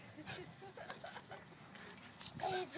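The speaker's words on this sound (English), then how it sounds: "Two giant dogs fighting to the death like lions." Two large dogs scuffle and fight nearby, with yips, whimpers and panting breaking through over roughly three seconds, while people talk excitedly over the commotion.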